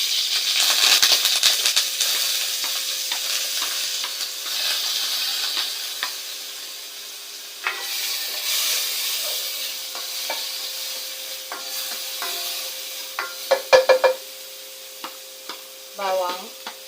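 Ginger dropped into hot oil sizzles with a bright, steady hiss, interrupted by a few stirring clatters and scrapes near the end, close by and without talk.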